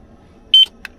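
A carbon monoxide alarm inside a car being readied for a winter overnight stay gives one short sharp electronic beep, followed a moment later by a fainter brief chirp, in an otherwise quiet interior.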